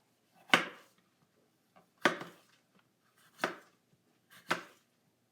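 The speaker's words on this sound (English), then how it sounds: "And I'm cutting it on one of our cutting mats." A knife chops food on a plastic cutting mat from a set of four. Four separate firm chops land at a steady, unhurried pace, close and clear with quiet gaps between them and no talk.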